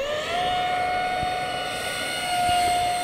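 Eachine F-18 Top Gun 50mm EDF RC jet on a 3S battery, a steady, loud, high-pitched ducted-fan whine with a sustained tonal scream held throughout, close to the listener.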